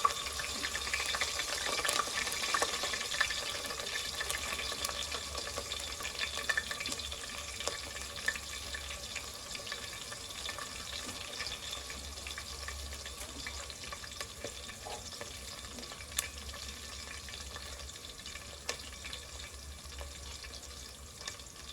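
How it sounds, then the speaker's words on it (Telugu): Onions and green chillies frying in hot tempering oil give a steady crackling sizzle across the whole stretch, with faint stirring and occasional pops, and no voices. "ఆనియన్స్ పచ్చిమిర్చి అన్నీ కూడా పోపులోకి వేసేసుకుంటున్నానండి"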